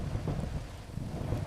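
A thunderstorm with rain heard from inside a rustic cabin, a low continuous rumble with steady rainfall, fairly faint and with no voices.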